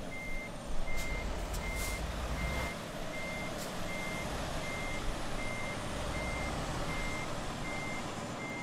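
A truck reversing a trailer in American Truck Simulator gives off a regular, evenly spaced electronic reversing beep, faint and repeating over a low engine rumble.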